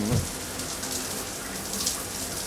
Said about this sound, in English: Okay, the showers. We heard the watery sound here.